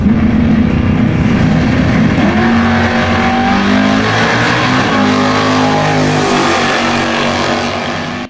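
A 383 small-block drag race car engine running 87 octane fuel roars loud and close through the whole run, a steady high-power drone that tapers off only at the very end.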